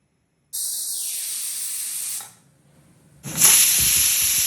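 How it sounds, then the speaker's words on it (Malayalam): A pressure cooker holding onions and tomatoes for chicken biryani hisses out steam in two loud, steady bursts separated by a brief quiet gap, close and alone. "ഒരു മൂന്ന് വിസിൽ എൻ്റെ കുക്കറിൽ വേഗം വിസിൽ വരും"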